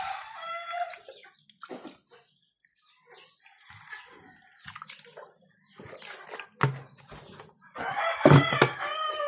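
Pet chickens at feeding time cluck and crow in short, separate bursts. A rooster's crow rises near the end, and there are quiet gaps between calls.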